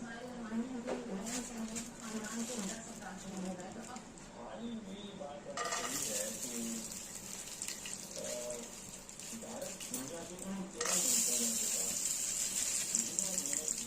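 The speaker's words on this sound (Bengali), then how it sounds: "এবার এই তেলের মধ্যে আমরা এখানে কাজু বাদাম দিয়ে দেবো বেশ কয়েকটা।" Cashew nuts fry in hot oil for a Kolkata-style chicken chaap, a broad sizzling hiss that swells louder in stages with occasional stirring clinks, while a person speaks.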